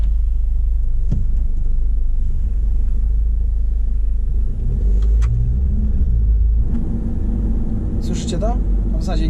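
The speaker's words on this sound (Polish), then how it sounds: "A tak wygląda procedura startu w Sprinterze trzeciej generacji." A third-generation Mercedes Sprinter van engine starts by push button and idles with a low, steady rumble throughout, a few faint clicks and knocks sounding nearby.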